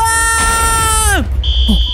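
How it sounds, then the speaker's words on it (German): An alarm goes off in Minecraft: a loud, sustained buzzing electronic tone that drops sharply in pitch, followed by a brief higher beep. "der Alarm ist doch angegangen"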